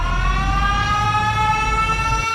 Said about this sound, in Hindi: तभी एक सायरन बजता है।